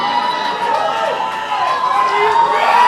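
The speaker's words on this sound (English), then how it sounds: "Crowd seems to be loving these two bands right off the bat." A crowd cheers and shouts steadily for two bands at a battle-of-the-bands set, a dense, continuous roar of voices held loud throughout.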